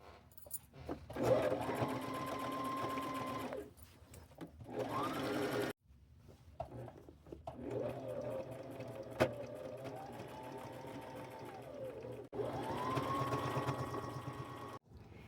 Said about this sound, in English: So I'm fixing to do a zigzag stitch around each one of them.